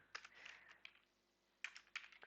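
Keys clatter on a computer keyboard in two short bursts of close, quiet taps separated by a brief pause.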